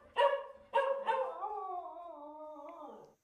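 A dog gives two or three sharp barks and then draws out into a long, wavering howl, alone and fairly faint.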